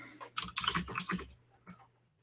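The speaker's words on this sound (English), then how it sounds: "It looks like Carolyn's typing something in" Someone types on a computer keyboard in bursts of quick, close key clicks, then a pause and a few final taps.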